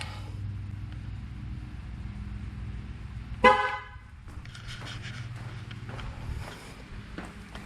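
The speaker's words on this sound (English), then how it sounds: "all right, the car honked." A 2005 Chevrolet Corvette C6 gives one short, loud horn honk during tire pressure sensor programming. It comes midway through the clip over a steady low engine or room hum, followed by faint handling noises.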